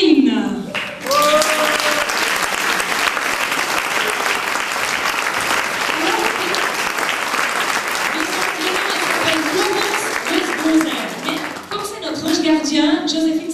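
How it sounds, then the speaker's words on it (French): An audience at a parish brass band's annual concert claps steadily for the stage director, sustained dense applause from a full hall, with a speaking voice over it at the start and end. "Je vous demande d'applaudir notre metteuse en scène, Joséphine."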